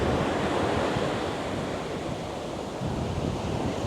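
Ocean waves break on a beach at night, giving a continuous loud roar of surf with wind noise and no distinct pauses.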